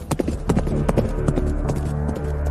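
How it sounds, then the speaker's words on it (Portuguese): Horse hooves clip-clopping in a quick, even galloping rhythm over a low droning hum, loud and continuous through the short stretch. "ele ouviu um som distante, como o galope de um cavalo"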